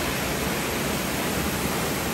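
Burua waterfall pours in a continuous dense roar, a loud, steady wash of falling water with no pauses and no voices.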